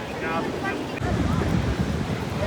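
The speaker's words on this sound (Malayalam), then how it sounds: "കടൽ നല്ല ശക്തിയായിട്ട് വരുന്നുണ്ട് കേട്ടോ" Strong surf rolls and crashes steadily at The Entrance on the Australian coast, with wind buffeting the microphone throughout and no break in the roar.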